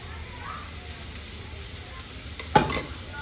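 Oil heating in a pan for soya burji gives a steady, close hiss of sizzling throughout, with a brief louder clatter near the end.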